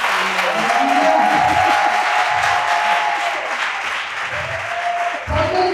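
A church congregation at a women's gathering bursts into loud sustained applause and cheering for the Lord, with clapping filling the room and voices rising through it.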